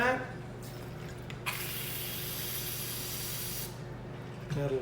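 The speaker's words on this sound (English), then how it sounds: "Add a little soda." Soda water gushing into a cocktail glass with ice for a whiskey ginger, a steady close fizzing hiss lasting a couple of seconds between softer handling noises.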